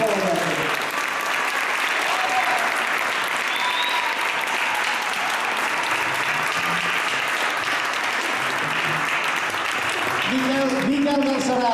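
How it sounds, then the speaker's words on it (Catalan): Sustained audience applause for the pianist at a jazz festival concert in Terrassa, a steady wash of many hands clapping throughout, with a voice speaking briefly over it at the start and near the end. "si us plau, un aplaudiment per Pol Oñate"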